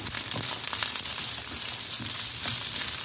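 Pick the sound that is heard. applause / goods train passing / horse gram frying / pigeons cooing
horse gram frying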